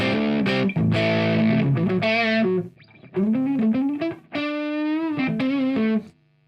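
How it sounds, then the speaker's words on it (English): An electric guitar, an Artist TL69 Thinline Telecaster through an HBE Detox EQ and an amp with overdrive distortion, plays a short phrase of sustained, gritty notes with brief pauses, ending abruptly. "I've got just a bit of distortion on the amp as well."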